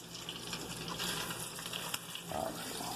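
Bacon frying in a pan gives a steady, dense sizzle and crackle that runs without a break, fairly faint, with a brief higher tone near the end.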